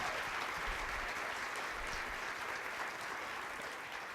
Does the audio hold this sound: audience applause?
yes